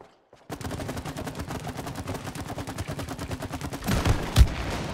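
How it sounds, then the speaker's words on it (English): Rapid gunfire rattles continuously in the co-op video game It Takes Two, with dense shots in a steady stream and a louder explosion bursting near the end. "I think it's a bigger explosion when you shoot the stuff that I shoot."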